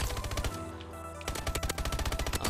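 Rapid automatic fire from the ASM1 rifle in the video game Advanced Warfare crackles in two fast bursts separated by a brief pause, close and punchy.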